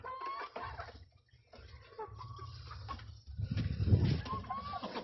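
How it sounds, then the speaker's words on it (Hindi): Hens clucking as they come in to lay eggs, a few soft intermittent clucks and low fowl murmurs at close-to-moderate distance, growing busier toward the end, fairly quiet overall. "ये भी देख मुर्गियां और आ रही हैं अंडे देने के लिए।"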